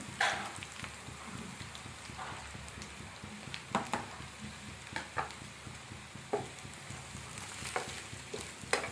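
Brinjal pieces frying in a pan for a North Karnataka style eggplant dish, giving a steady low sizzle with occasional sharp stirring scrapes and clinks, fairly quiet and close, with no talking.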